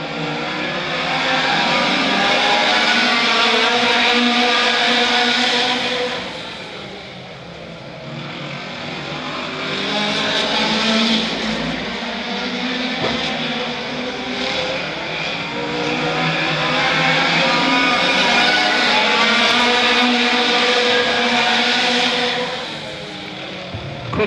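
AutoXross race cars, including an Audi TT and a Vauxhall Tigra, roar around the Arena Essex circuit, engines rising and fading in repeated passes. The loud, revving drone swells, dips around the middle, then builds again.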